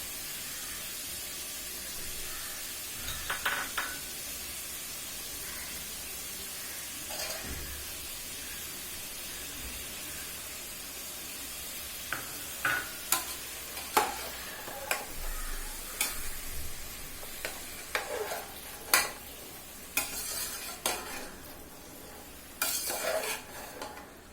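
Vegetables frying for a veg biryani, a soft steady sizzle with intermittent close clicks and scrapes of a spoon stirring in the pan, sparse at first and more frequent toward the end.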